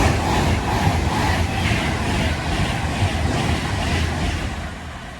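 A London Euston to Blackpool North passenger train passes close by at Acton in Cheshire, giving a loud, continuous rushing rumble with faint wheel clatter that eases slightly toward the end.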